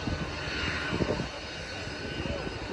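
Airplane passing high overhead near Phuket airport by the beach: a steady, broad engine roar sustained at an even level throughout, distant but clearly present.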